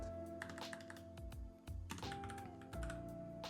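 Keys clatter on a computer keyboard in quick, irregular bursts of soft clicks, quiet and close, over a faint steady tonal background.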